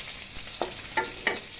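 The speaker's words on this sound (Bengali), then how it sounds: "পেঁয়াজটি ছেড়ে দিয়ে এখন আমি ভাজতেছি" Onions fry in a pan with a continuous close hiss, broken by several short scraping stirs at a steady pace.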